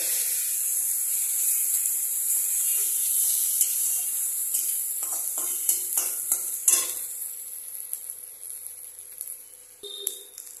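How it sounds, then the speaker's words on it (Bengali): A spice paste with poppy seeds fries in a pan with a steady close sizzle. In the second half, repeated scraping stirs and clatters join in, growing busier and more uneven. "এবার মশলাটাকে ভাজা ভাজা করে নিতে হবে।"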